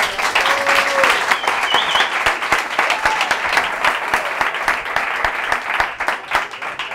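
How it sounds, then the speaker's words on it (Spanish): A conference audience applauds loudly and steadily for several seconds, with a few whoops and voices rising over the clapping. "Un aplauso fuerte para él."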